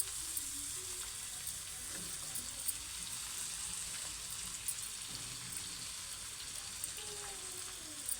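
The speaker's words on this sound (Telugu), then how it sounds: "ఇలా వేయించుకున్న తర్వాత మనం క్యాబేజీని ఇలా కట్ చేసుకొని వేసుకుందాం" Cut, freshly washed cabbage frying in a pan for tomato curry, a soft, even sizzle and hiss that holds steady throughout at low volume.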